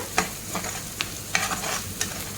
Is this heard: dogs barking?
no